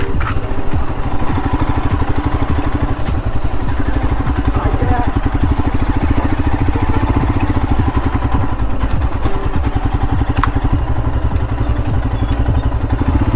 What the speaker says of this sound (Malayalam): നമുക്കിനി ബൈക്ക് ഇവിടെ ഒന്ന് സേഫായിട്ട് പാർക്ക് ചെയ്യാം